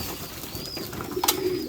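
A white face pigeon coos softly among a flock, the low calls faint against outdoor background noise, with a brief sharper sound near the end.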